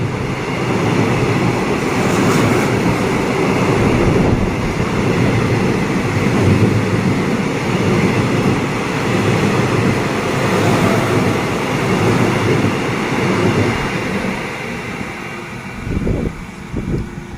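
Loud, continuous rumble of a train accelerating close by on double track, heavy low-end roar with rattling, easing slightly toward the end.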